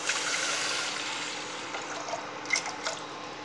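Water pours into a pressure cooker holding lentils, a steady splashing gush that runs continuously and eases off slightly, with a few small drips and clinks near the end.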